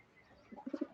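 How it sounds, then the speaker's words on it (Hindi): A domestic pigeon coos beside its nest of eggs and chick, a short run of three or four low, throaty pulses rising near the end, close and fairly soft against a quiet background. "इधर कबूतरा घुट रहा है"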